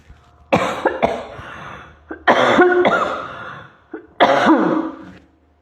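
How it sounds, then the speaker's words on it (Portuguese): A person coughs in three separate bursts spread across a few seconds, each a harsh, close cluster of coughs with short quiet gaps between. "Vou ter que tossir, gente."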